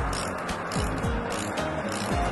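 A ratchet tool tightens a bicycle bracket, a loud, close, steady run of rapid mechanical clicks with repeated turning strokes and no talk.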